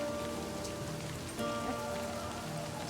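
Steady rain falls and patters on surfaces in a dark scene from the video game Livber: Smoke and Mirrors, a continuous close wash of drops with no voices.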